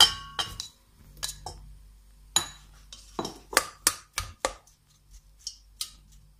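Vegetable oil and mushrooms go into a stainless steel pot in a home kitchen, giving a run of sharp metallic clinks and knocks, separate and fairly close, with short quiet gaps between them and no talking.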